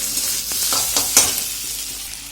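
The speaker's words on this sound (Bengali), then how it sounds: "একটু লো ফ্লেমে ভেজে নেবো এটা ভালো করে" Egg and chicken fry over low flame in a pan, giving a loud steady sizzle broken by scraping stirs and a sharp utensil clink.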